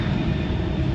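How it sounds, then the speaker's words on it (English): Airplane departing near Tokyo Haneda, heard as a steady, loud, broadband engine roar with a low rumble that holds evenly through one second, no voices. "That plane just left."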